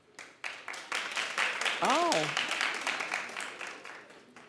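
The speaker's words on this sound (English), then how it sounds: "Clap." Studio audience clapping on a TV talk show, a steady burst of applause filling the room while a host's voice rises briefly over it.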